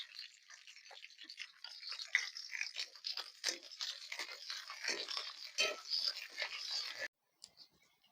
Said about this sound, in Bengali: পেঁয়াজ কলিগুলো আমি ভালো করে ভেজে তুলে নেব।